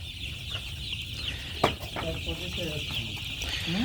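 Soft clucking from Sonali chickens near and far, with a short sharp knock partway through and steady background hiss throughout.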